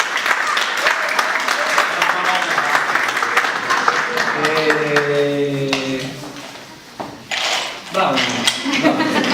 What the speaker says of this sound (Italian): quindi un applauso per la parola